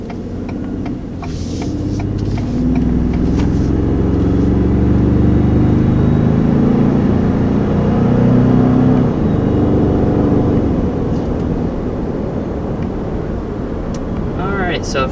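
A 2019 Ford Expedition Max takes off on a drive, its engine note rising as it accelerates and holding a steady, loud road hum under the cabin, with a person talking over it.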